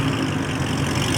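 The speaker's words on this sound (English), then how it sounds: "We got the SVJ that just pulled up." Lamborghini SVJ idling at a car show after pulling up, a loud, steady low engine rumble close by with no voices over it.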